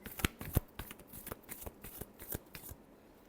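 Tarot cards being shuffled by hand, a close, quiet series of soft riffling flicks and taps over a few seconds, with no one speaking.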